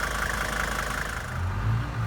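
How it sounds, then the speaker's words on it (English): Idling 1980 Mercedes 300D with its old OM 617 diesel engine, a steady low rumble that holds at an even level for about two seconds with no talk over it. "The typical sound of that old OM 617 diesel engine."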